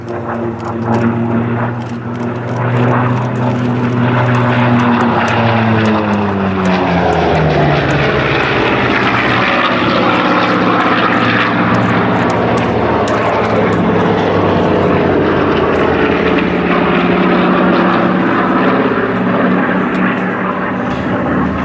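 A propeller warplane powered by an R2800 radial engine roars past at the Flying Legends air show at Duxford, loud and sustained, its pitch sweeping downward as it passes, with faint commentary underneath.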